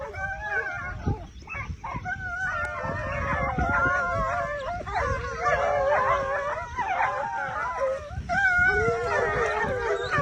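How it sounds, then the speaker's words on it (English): A dog howls in long, wavering, rising and falling cries, broken by short yips and whimpers. The howling is loud and near and carries on through the whole stretch, with faint voices in the background. "Pay attention to that dog, Brett."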